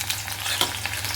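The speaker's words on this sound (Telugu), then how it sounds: "ఇప్పుడు ఈ తరిగి ఉంచుకున్న ఉల్లిపాయలు కూడా నూనెలో వేసి" Chopped onions fry in hot oil for a tindora fry, giving a loud, steady sizzle with faint stirring scrapes throughout, no voices.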